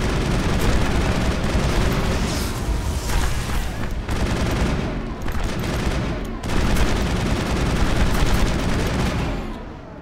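Sustained gunfire from the video game Mass Effect, dense bursts of automatic shots and booming blasts close and loud throughout, with a few brief lulls between volleys.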